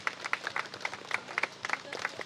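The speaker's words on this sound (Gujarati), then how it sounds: "જોરદાર તાળીઓ, જોરદાર" An audience at a stage function for a blood donation camp claps. The sharp, scattered hand claps are moderately loud and nearby, with a faint crowd murmur underneath.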